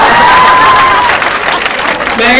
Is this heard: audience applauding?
yes